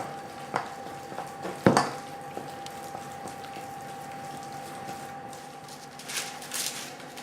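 Choux pastry batter for profiteroles beaten with eggs in a bowl, irregular clinks and scraping of a utensil against the bowl, with a couple of sharper knocks early on and softer wet mixing sounds after.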